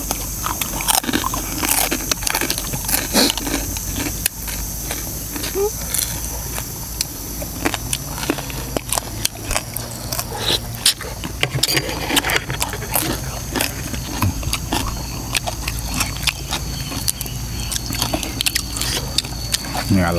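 Crispy fried pork tail crunches loudly under repeated close bites and chewing, a steady crackling munch that carries on throughout with speech mixed in.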